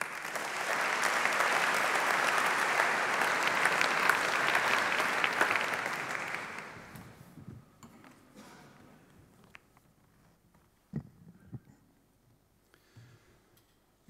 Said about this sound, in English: So may I ask an applause for him, Martin van Rijn.